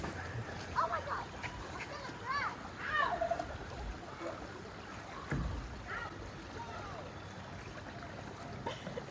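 Canoe being paddled down moving water, with splashes and water rushing past, while voices shout and call out over it.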